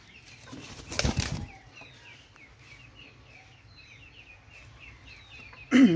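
Pakistani Teddy pigeon released by hand, giving one loud burst of wing flapping near the start, then quiet room background with a few faint chirps and a sharp knock at the end.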